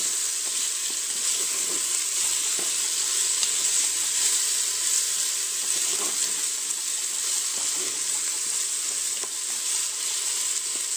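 Beef meatballs browning in a Cookeo multicooker pot give off a steady, close sizzle throughout, with faint scattered crackles and no talking.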